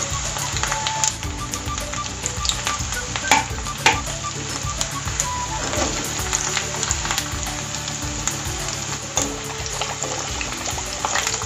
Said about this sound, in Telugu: గోబీ వేసేసుకోవాలి ఒక్కొక్కటిగా సిమ్ లో పెట్టుకొని వేయించుకోండి